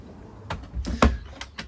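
Drawer handles in an overlanding vehicle popping open and latching shut, giving a handful of sharp, close clicks and clacks with short pauses between them.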